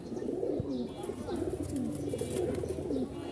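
Pure white pigeons, one crested pair and one without crests, coo repeatedly in soft, rolling phrases close by at a pigeon market, with a low murmur of background noise.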